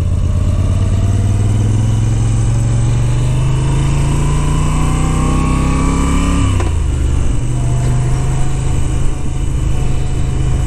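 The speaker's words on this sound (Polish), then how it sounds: "Pięknie ten silniczek pracuje." A 2022 Moto Guzzi V7 850 Special with its sideways-jutting twin cylinders runs loud and close while being ridden, revving up steadily, dropping sharply at a gear change, then pulling on again under constant road noise.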